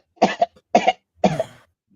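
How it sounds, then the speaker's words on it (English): Three harsh coughs in a row, close and fairly loud, the last one longer and raspier, with brief silence between them. "overnight, I developed this really bad cough."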